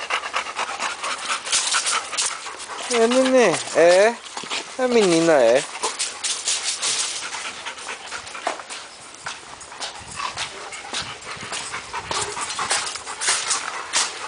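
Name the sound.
dog panting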